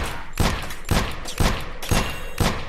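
Gunfire in the video game Drive 4 Survival, five evenly spaced loud shots about half a second apart, close and alone over a background hiss.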